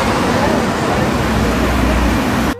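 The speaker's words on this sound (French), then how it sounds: "il y avait beaucoup trop de bruit, beaucoup trop de circulation" Heavy street traffic in Paris forms a dense, continuous roar of passing vehicles, loud and steady throughout with no pauses.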